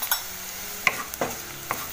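Onion and chili masala sautéing in a pan, a steady sizzle with a few sharp spoon scrapes and taps against the pan, close and alone.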